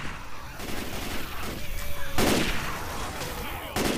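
Gunfire in Left 4 Dead 2 as players shoot at a charger on a custom night map, with sharp bursts of shots, one heavy volley in the middle and another at the end, over constant game ambience.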